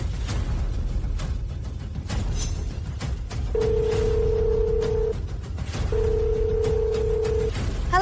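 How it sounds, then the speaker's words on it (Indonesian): An electronic telephone ring sounds in two long, even tones separated by a short gap, heard over a loud, steady background hum. "Telepon."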